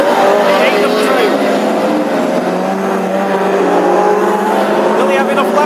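Classic hot rod cars race around an oval track at Birmingham in a heat, their engines roaring loud and steady throughout as the pack runs down the back straight, with commentary over the noise.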